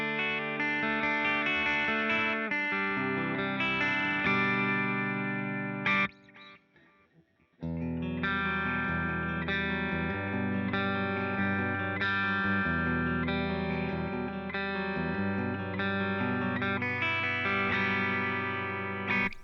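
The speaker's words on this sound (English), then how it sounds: "Moving over to the bridge humbucker, it's definitely twangier and a bit brighter." A FESLEY FST350m electric guitar played through its bridge humbucker with a bright, twangy tone, steady strummed chords ringing loud and continuous with a brief pause partway through, no talking over it.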